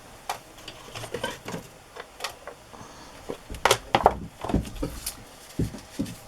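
A sewing machine stitches across strips of coffee-dyed paper in short, irregular bursts of quick mechanical ticking, close and fairly quiet, separated by brief pauses and small handling taps.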